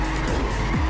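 A car in the racing video game Trackmania Turbo drifts with loud tire squeal, its skids sweeping over a continuous engine roar in quick, close bursts.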